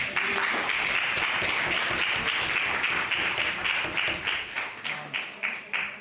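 Audience applause in a debating hall greeting an opposition speaker: many hands clapping in a full, sustained burst that thins toward the end into scattered, separate claps.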